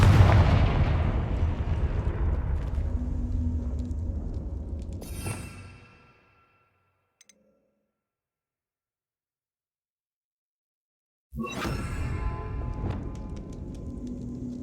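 Confringo blasting-spell explosions in Hogwarts Legacy produce loud sustained booming blasts that fade into near silence for several seconds, then another sharp blast hits and rumbles on.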